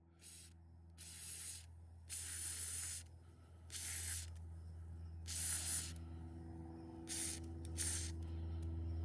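Penetrating lubricant sprayed onto a stuck bolt on an old Carolina Skiff boat, heard as about six short hissing bursts of aerosol, each a second or so long, close up with a low steady hum beneath and no talking.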